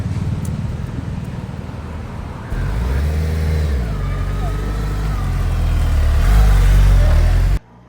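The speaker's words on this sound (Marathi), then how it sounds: "सो बाईकचं तुम्हाला एकदा एक्झॉस्ट ऐकवतो." A Suzuki Hayabusa superbike on its stock exhaust starts and idles with a deep, soft, steady rumble that swells with a few throttle blips, close by and loud, while someone talks over it.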